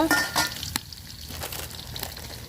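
New potatoes frying in a hot pan of oil, a steady sizzle with a few sharp stirring clinks and scrapes near the start, close and unbroken with no talking.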